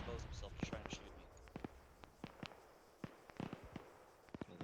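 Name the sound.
distant gunshots in a video game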